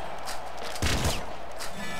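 Game gunfire from a shotgun in Nuclear Throne: one dense, loud blast bursting out of a steady game-music bed, with a short rattling tail before the backing music carries on alone.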